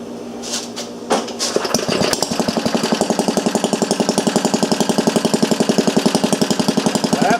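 A small engine running without a muffler starts after a few rattles and then settles into a loud, fast, even train of sharp exhaust pops, heard close and alone.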